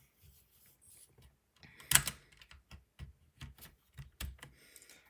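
New keycaps are pressed onto a computer keyboard: sparse, sharp plastic clicks and taps, one louder snap near the start, then a run of quick close clicks in quiet surroundings.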